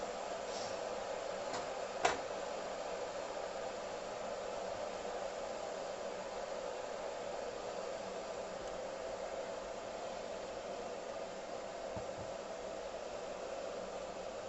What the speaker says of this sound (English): sorry about the noise, but I'll wait until the kettle has reboiled.